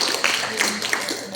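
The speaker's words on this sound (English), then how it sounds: "Let us give them a big hand of applause." Audience clapping for the winners of a paper presentation session, a steady patter of hands over about a second and a half, with a few sharper claps standing out.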